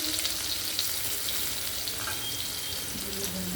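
Potatoes and pointed gourd frying in oil in a home kitchen, a steady close crackling sizzle with light stirring, no talk.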